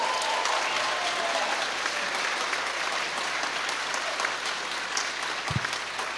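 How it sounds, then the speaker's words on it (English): Audience applause at an awards ceremony, steady dense clapping from a crowd filling the room, sustained at even loudness with a brief thump near the end. "So let's have a round of applause for them."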